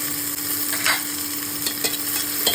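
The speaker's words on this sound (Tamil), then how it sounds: "இதையும் போட்டு லைட்டாக ஃப்ரை பண்ணி விட்டுக்கலாம்." Onion, crushed garlic cloves and ginger fry in a pan with a loud, steady sizzle close up, while a spatula stirs through it with a few soft scrapes.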